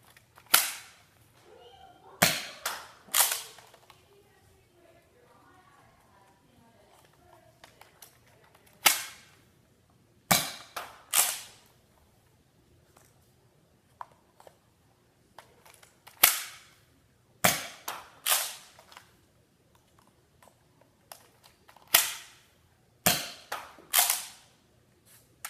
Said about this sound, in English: now I will be shooting. I'll start with the Falconfire first.